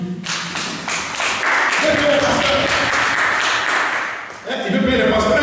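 Congregation at a French-language church service clapping and cheering in praise of Jesus, a dense, loud wash of applause and voices that runs steadily, dips briefly near the end, then swells again.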